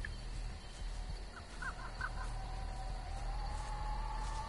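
Crows scattering in the horror game Dead by Daylight: a short burst of caws or wing flutters around the middle, sitting faintly over steady low ambient rumble and a rising tone.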